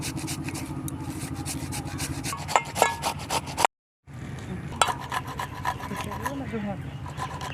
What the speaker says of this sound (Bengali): আলু কুড়ে জলের ভিতরে দেব